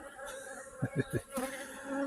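Honeybees buzz around their hives during a varroa mite inspection, a steady close insect hum with a few brief louder passes, and no talk over it.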